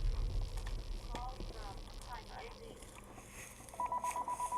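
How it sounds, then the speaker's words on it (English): A telephone rings with short repeated electronic tone bursts near the end, faint beneath Call of Duty WW2 gameplay noise and a talking voice. "the phone is ringing"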